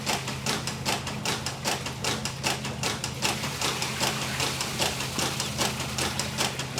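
A large Eureka motor is running on 210 AA batteries wired in series. It gives a loud, steady, rapid clatter of regular mechanical beats over a low hum, with no voices.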